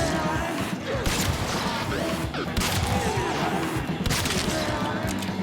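Cernos Prime shotgun bow firing in Warframe, a dense, continuous loud clatter of impacts and bursts throughout, with a few sharper strikes standing out near the middle and toward the end.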